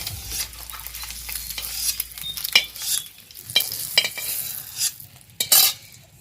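Fried desi chicken eggs are lifted out of sizzling oil in a pan, with a steady crackle of frying under irregular scrapes and clinks from the utensil, close by and with no talking.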